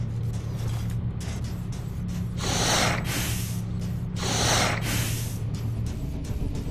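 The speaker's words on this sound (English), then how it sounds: "You're breathing on me and it's disgusting" Heavy breathing comes close and loud as two long, rushing exhales about two seconds apart, over a steady low hum with no talking.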